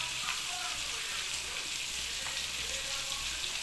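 Tomato, ginger, garlic and onion fry with cumin and turmeric powder in a pan, giving a steady, close sizzle that holds evenly throughout with faint stirring.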